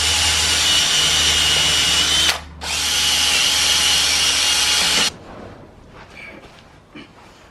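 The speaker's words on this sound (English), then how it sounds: "So just a wire wheel." A power drill spins a wire wheel to clean the inside of an HJ47 swivel hub, giving a loud, steady, high-pitched whir with scratchy grinding. It dips briefly once, then stops, leaving faint clinks and handling noises.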